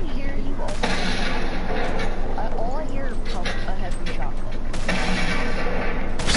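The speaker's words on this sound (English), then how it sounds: "People are throwing grenades in here." Grenade blasts in a multiplayer shooter match, heavy rumbling booms and gunfire crackle filling the whole stretch, loud and continuous with a sharp burst near the middle and another toward the end, mixed under excited voices.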